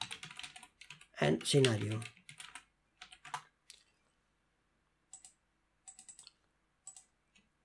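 Keystrokes on a computer keyboard come in short bursts after a person speaks, then a few sparse clicks with pauses between them, close and fairly clear.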